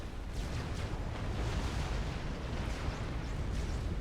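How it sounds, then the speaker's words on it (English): A volley of tactical missiles detonates in a Supreme Commander battle, producing a dense, continuous roar of overlapping explosions and rumbling booms that holds steady at high volume throughout. "Another volley of TAC missiles."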